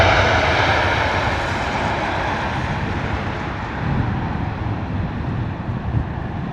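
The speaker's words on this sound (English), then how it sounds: "Lovely noise there from the Swiss A320 Neo" A Swiss Airbus A320neo jet landing in wet, windy weather at London Heathrow, a loud broad engine roar that slowly fades and lowers in pitch as it passes, with wind buffeting the microphone.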